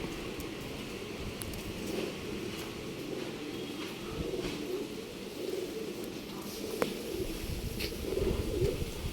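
Domestic pigeons coo in a loft, a low, steady murmuring that runs continuously at moderate distance, mixed with rustling and faint background noise.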